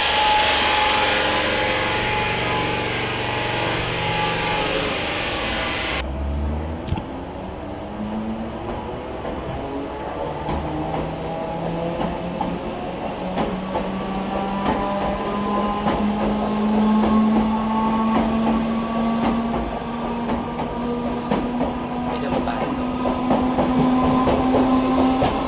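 An old commuter electric train, a relative of the class 319, running at Finsbury Park: a steady loud rolling rumble with a rising motor whine that climbs in pitch as it pulls away, broadband noise thinning after the first few seconds.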